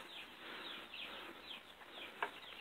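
Hens with a rooster in a chicken coop, about sixteen or seventeen adult birds; soft, faint clucks and short calls scatter through a quiet, hissy background.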